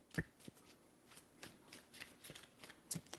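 A deck of tarot cards handled and shuffled quietly up close, soft scattered riffles and taps over a faint background hiss, with no voices.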